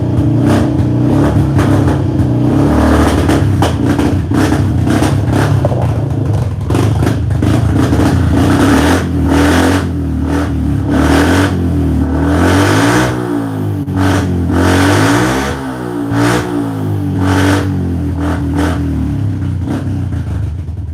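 A Toyota Prius engine runs while warming up after a battery fix, a steady close idle with repeated rising and falling revs over about twenty seconds, loud and continuous without talk.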